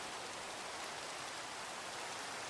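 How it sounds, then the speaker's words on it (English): Rain falls in Minecraft as a steady, soft, even hiss with no gaps, fairly quiet and unbroken by talk. "Oh, and the rain stopped."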